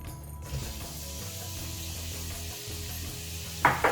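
Chopped onions hit hot coconut oil in a pan and crackle steadily, a close, even frying hiss with scattered pops and a louder burst of spatter near the end.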